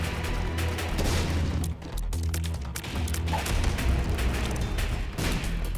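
Bombs going off in The Binding of Isaac, a dense run of loud booming blasts and crackling explosions with constant game noise, heavy and close throughout with brief dips between bursts.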